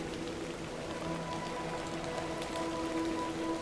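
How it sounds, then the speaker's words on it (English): Steady rain falls in the video game The Excavation of Hob's Barrow, a constant soft hiss of drops on surfaces, with faint tonal background music running underneath. "Little rain is no bother."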